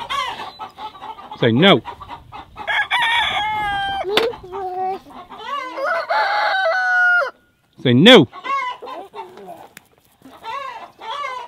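Roosters crow loudly and repeatedly while hens cluck close by; a person speaks briefly amid the racket.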